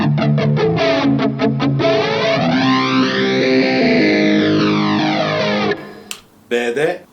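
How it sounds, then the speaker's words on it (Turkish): Electric guitar with a built-in effects processor set to a flanger tone plays a loud strummed chord with a sweeping, whooshing comb-filter swirl that rises and falls for several seconds, followed by a brief rustle and a few muted string noises. "5. bankaya geçtim. Flanger'lı bir ton var."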